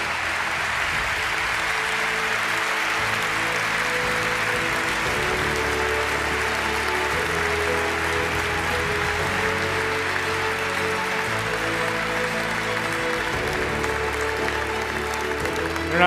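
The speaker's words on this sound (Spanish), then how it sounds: "Y un aplauso fuerte." Sustained, dense applause fills a gala hall at a national canoeing awards ceremony, steady and loud from start to finish with faint crowd murmur beneath.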